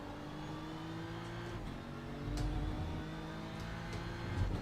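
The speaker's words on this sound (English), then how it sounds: "LMPH Cadillac might be the best sounding race car I've ever heard in my entire life" A Cadillac LMDH race car engine in a racing video game drones and revs with a rising and falling whine, steady and fairly distant, with no voices.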